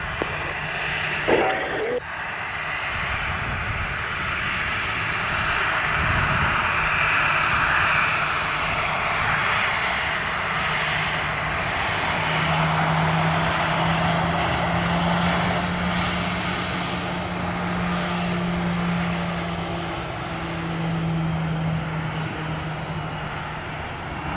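An airplane powers up and takes off from runway 25 at Montego Bay, its engine roar building into a loud, sustained drone across the whole stretch, with a brief radio voice at the start.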